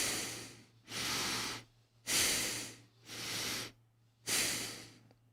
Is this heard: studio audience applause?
no